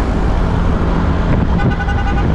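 Dense street traffic heard from the back of a motorbike taxi in a congested city, a steady roar of engines and wind with a few brief horn toots toward the end.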